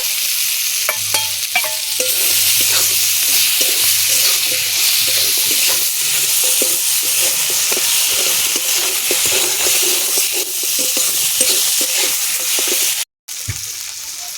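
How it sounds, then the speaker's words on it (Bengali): Fried fish heads sizzle steadily in spiced masala for moong dal, with a spatula scraping and stirring through the pan in repeated strokes and a brief cut near the end. "দিয়ে দেব মাছের মাথা ভাজা"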